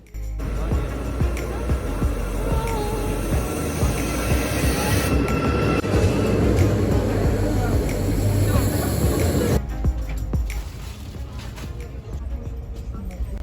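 A Kyiv–Przemyśl passenger train rumbles steadily along with a dense low roar and rattling, shifting to a quieter, thinner rumble near the end.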